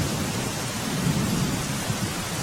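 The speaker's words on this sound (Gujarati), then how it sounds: "ગિરનાર પર્વત પર ધોધમાર વરસાદ પડ્યો હતો" Heavy downpour on the stone steps of Girnar mountain in Junagadh, a steady dense roar of rain with a low rumbling undertone, continuous and fairly loud throughout, no voices.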